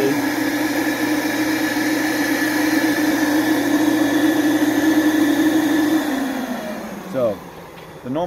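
A Precision-5 Pro sealed air-pressure machine's motor hums steadily with a tonal drone and broadband air noise, then winds down near the end. A voice talks over it.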